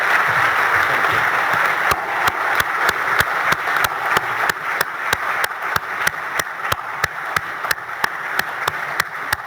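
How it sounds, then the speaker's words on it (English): Applause at the Australian of the Year awards ceremony, a broad crowd wash that settles into loud, evenly spaced rhythmic claps in unison, close and regular for several seconds. "Let's give him a huge round of applause."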